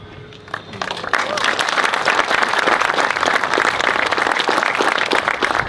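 Wedding guests break into loud, sustained applause after the vows, a dense wash of clapping that starts abruptly and carries on to the end, with a voice briefly audible beforehand.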